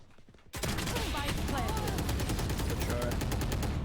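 Rapid automatic gunfire in the video game Valorant rattles loud and continuous for a few seconds after a brief quieter lead-in, with in-game voice callouts mixed in.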